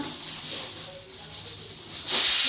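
Quiet rumbling background, then a loud rush of hissing steam bursts out near the end, like a pressure cooker of rice venting close by.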